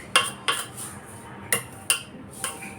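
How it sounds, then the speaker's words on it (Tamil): A utensil scrapes and clinks against a pan while a coconut milk athirasam mixture is stirred, five or six sharp metallic strokes in an uneven rhythm, close and clear with no talk. "ஒரு நிமிஷம் இன்னும் இப்படியே கிளறி விட்டுருங்க"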